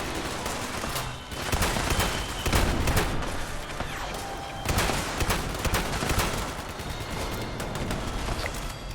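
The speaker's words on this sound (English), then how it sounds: "We're just kind of going around and just shooting as many of these guys we can." Rapid bursts of close, loud gunfire from the video game Fallout 76 crackle as enemies are shot, with repeated volleys and brief lulls between bursts.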